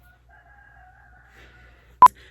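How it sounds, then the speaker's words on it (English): Roosters crow faintly in the distance, a thin drawn-out call fading in and out, then a single sharp knock rings out close by near the end. "Oh my gosh, these roosters"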